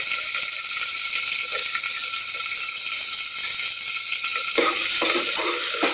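Potatoes, onion and green chilies fry in an oiled pan with a loud, steady, close sizzle that runs for six seconds, with light stirring and no voices.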